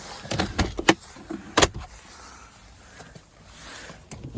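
Electric passenger seat motor in a Skoda Octavia TDI DSG whirring in short bursts, with a few brief clicks and clunks as the seat moves, close up inside the car.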